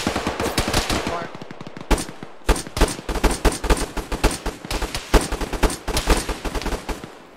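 Sustained machine gun fire in a military tactical shooter game, dense rapid bursts rattling close and loud with brief pauses between volleys.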